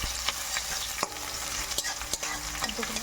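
Raw onions sizzle and fry in a pan for a mutton dish, with a steady close crackle broken by sharp scraping stirs of a utensil against the pan.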